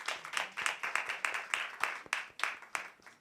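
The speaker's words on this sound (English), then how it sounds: "Clap for yourself." A group of creatives clapping for themselves at the end of a timed crafting competition show, a fairly sparse, uneven run of distinct hand claps, moderately loud and close, with no talk.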